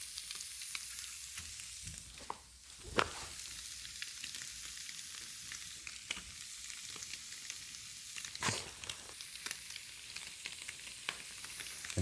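Catfish fillet sizzling and frying in butter in a pan, a steady close crackle with a few sharper pops and spatters, no voices.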